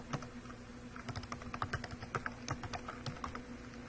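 Rapid, uneven clicking of keys on a computer keyboard while typing, close and fairly soft, with a steady low hum underneath and no talking.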